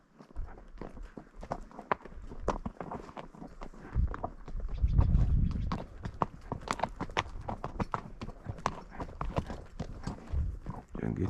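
Luke the horse walks around a reservoir, his hooves clip-clopping in a steady, fairly close rhythm over uneven ground, with some louder rumble partway through and a low background throughout.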